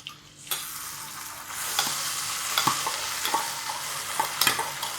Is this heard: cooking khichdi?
yes